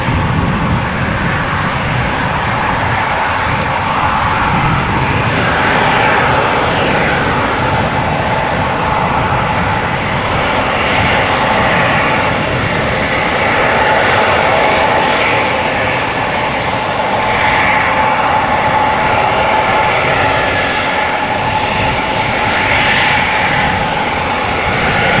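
A steady, loud roar of jet engines at Amsterdam Schiphol Airport, an aircraft close by holding a constant whine and rumble throughout, with no voices.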